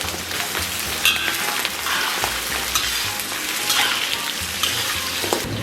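Chopped scallions and garlic sizzle loudly in hot oil with caramelized rock sugar, a dense, continuous crackle with scraping stirs, for braised pork belly.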